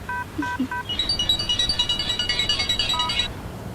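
A mobile phone is dialed, with a few separate tones at first and then a quick, regular run of dialing beeps for about two seconds, close and clear, with no talking.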